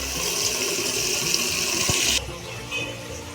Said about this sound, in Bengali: এখন গাছে জল দেবো